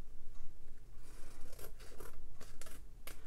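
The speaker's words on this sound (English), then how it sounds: "we need the scissors to cut off" Scissors cut close by in a series of quick snips and rasping slides, several crisp cuts spaced over a few seconds against a soft hiss.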